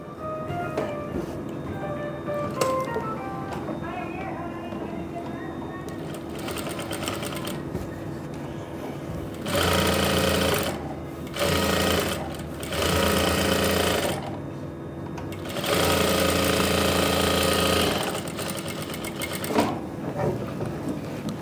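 A sewing machine stitching fabric, running in several loud bursts of rapid, rhythmic mechanical chatter separated by quiet pauses, with faint background noise in between.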